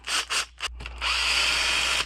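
Cheap cordless power drill working on the bumper of a Traxxas Xmaxx RC car, a few short close bursts followed by a steady whirring run.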